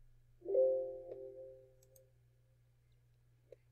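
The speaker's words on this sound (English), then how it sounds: "I'm going to again hold down the Control and click." One sharp computer mouse click rings out briefly against near silence while the Control key is held down, followed by a fainter tick moments later.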